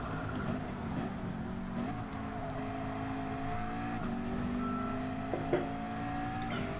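Race car engines whine at Watkins Glen in a racing video game, with steady droning tones that rise and fall as the revs shift, moderately loud and with no one speaking.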